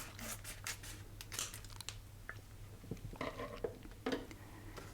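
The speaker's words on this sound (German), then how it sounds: "nimm dir die Schere, genau, schneide nochmal auf" Scissors snip and cut open a package in a quiet kitchen while tomato soup is being prepared, giving a series of close, crisp cutting and tearing sounds with light crinkling.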